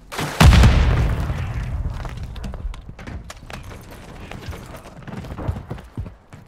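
A frag grenade blast in Call of Duty: Modern Warfare 3 team deathmatch, one loud close boom with a long rumbling decay, followed by scattered game clatter and distant impacts.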